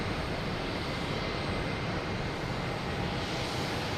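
A JetBlue airliner rolls down the runway on departure at Boston Logan, its engines a steady, loud broadband roar that fills the whole stretch without letup.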